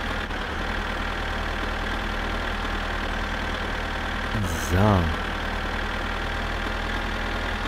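A tractor engine idles in the driving game My Summer Car, a steady low mechanical drone running the whole time, with one brief spoken word partway through.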